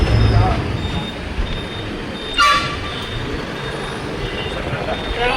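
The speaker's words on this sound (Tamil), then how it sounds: "டிராஃபிக்கு பாதி இடத்துல அதிகமாக இருக்குது" Steady roadway traffic along the Salem to Namakkal road in Tamil Nadu, a dense broadband rumble of passing trucks and buses with a short horn toot near the middle, continuous and fairly loud throughout.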